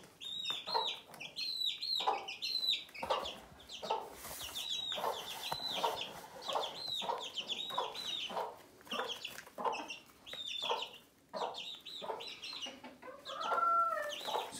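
Two newly arrived chickens in an enclosure give repeated close clucks and high peeping chirps in a busy, continuous stream, with no talk over them.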